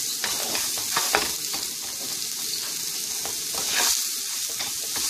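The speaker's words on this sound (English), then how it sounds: "now I've added the onion and the garlic. And now I'm just going to saute it a little bit here." Onion and garlic sautéing with rice in hot oil for Mexican rice, a steady close sizzle and crackle with faint stirring scrapes throughout.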